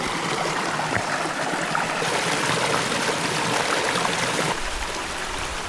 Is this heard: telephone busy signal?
no